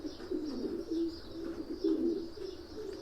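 Soft, low cooing of homing pigeons, a continuous murmuring warble from several birds close by, with no talking.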